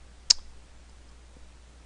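A single crisp computer mouse click, close and clear against near silence, with a faint second tick a second later.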